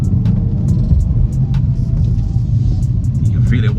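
A 2025 BMW 230i M-Sport rumbles along at steady speed, its low engine and road drone heard from inside the cabin, with occasional faint clicks and a voice murmuring in the background.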